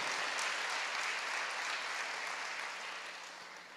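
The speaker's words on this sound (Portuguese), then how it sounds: "Dê forte esse aplauso ao Senhor" A church congregation claps together in a broad, steady wash of applause, heard at moderate distance and gradually fading toward the end, with no speech over it.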